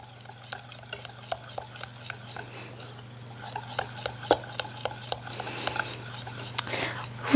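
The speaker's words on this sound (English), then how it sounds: "just keep on whisking it as you're adding it" Chocolate batter for a flourless cake whisked in a bowl as cocoa and eggs go in, with steady clinking taps of the whisk against the bowl over a constant low hum, with no talking.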